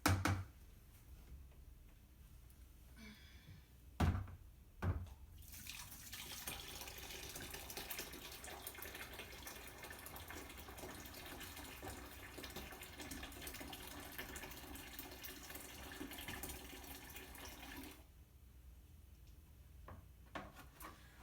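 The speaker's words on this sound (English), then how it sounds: "we're going to add in 1 gallon of hot water" A few knocks, then a steady rushing pour of a gallon of hot water into lye and lard for laundry soap that runs for about thirteen seconds before stopping; close and moderately quiet.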